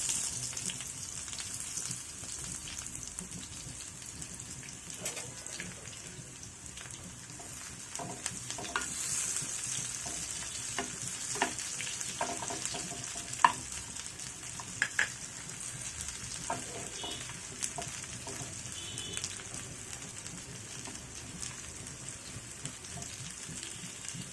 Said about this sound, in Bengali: তেলটা গরম হয়ে আসছে। এখন এর ভিতরে দিয়ে দিব পেঁয়াজ, কুচি করে রাখা একটি বড় পেঁয়াজ।